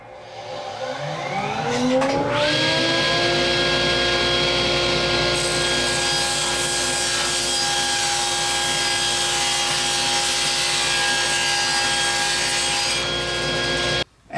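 A power saw runs up to speed, then rips steadily through a wooden board held in a taper jig, a loud sustained whine with a rising start-up tone and a brief cutoff at the end.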